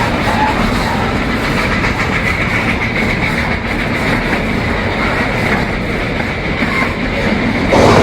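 The Puffing Billy heritage steam train in Australia rumbles steadily along its rails, heard from on board as a loud, continuous roar of wheels and carriage noise with faint rhythmic clatter and no talk.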